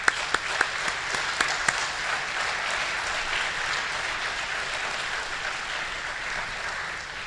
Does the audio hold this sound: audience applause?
yes